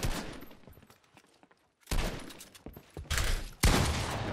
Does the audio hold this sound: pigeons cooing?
no